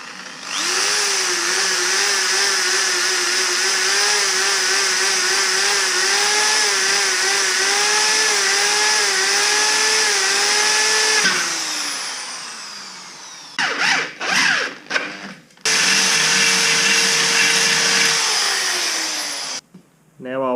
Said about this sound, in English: I'll drill a pilot hole first and then the larger one.